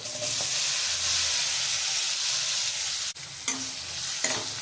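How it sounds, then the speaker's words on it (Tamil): Marinated paneer frying in butter gives a loud, continuous close sizzle, broken by a brief dip and a few clattering stirs near the end, without speech. "இதை ஃப்ரை பண்ணி எடுக்கலாம் இதுக்கு வந்து பட்டர் சேர்த்துக்கலாம் பட்டர் சேர்த்துட்டு நம்ம ஊற வச்சுக்கிற பன்னீர் சேர்த்துக்கலாம்"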